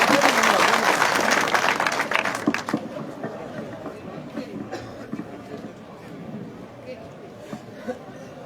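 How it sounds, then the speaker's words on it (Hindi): Loud applause from a crowd at an election rally in a Kanau village panchayat, strongest for the first two seconds then easing into lighter scattered claps and crowd chatter that carry on to the end. "जोरदार तालियों के साथ संजीव जी बेनीवाल।"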